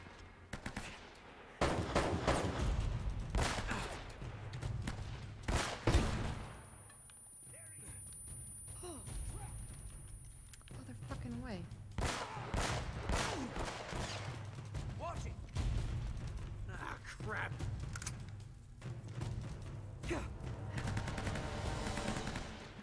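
Gunfire from the video game Uncharted: Drake's Fortune, repeated loud bursts of shots and machine-gun fire in a firefight, coming in clusters with brief pauses, while people talk excitedly over it.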